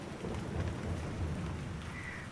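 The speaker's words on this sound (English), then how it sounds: "Another rumble of thunder." A low, rolling rumble of thunder with steady rain falling on surfaces, a broad continuous roar that swells and fades with no voices.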